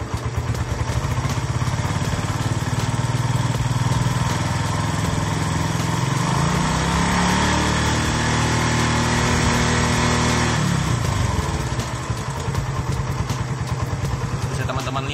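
A motorcycle engine with a battery charging over-voltage fault idles loud and close, then the throttle is opened and the revs climb, hold and fall back to idle, with no speech.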